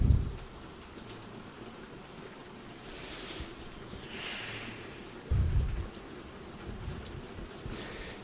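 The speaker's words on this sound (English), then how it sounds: "I'm going to work through the rain, if that's okay." Rain falls steadily outside in a soft, continuous patter, with a couple of low dull thumps rising briefly above it.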